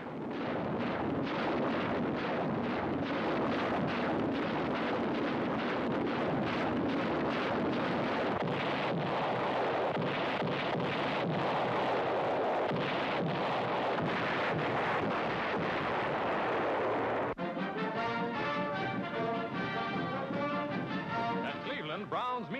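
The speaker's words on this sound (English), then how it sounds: "U.S. Marines make perfectly clear to the enemy the advantages of a truce with the biggest rocket barrage of the war" A U.S. Marines rocket artillery barrage roars as a dense, continuous stream of rapid launches and blasts on an old newsreel soundtrack. After about seventeen seconds it gives way to a narrator speaking.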